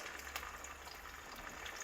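Tofu fries in a pan with a soft, steady sizzle and faint crackling pops, low and close, with no talking.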